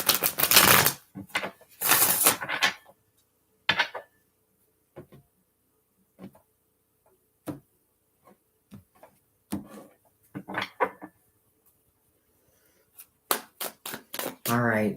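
A deck of tarot cards is shuffled in quick bursts of riffling and tapping, separated by short pauses and sharp clicks, close and fairly loud.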